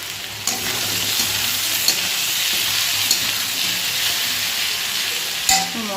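Potato and eggplant pieces sizzle steadily as they fry in oil, with a few sharp clicks of a spatula stirring the pan at intervals across the span.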